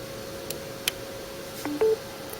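A phone connected by USB Type-C to a card reader gives short electronic notification tones, a few brief clicks followed by two quick rising beeps, clear and close.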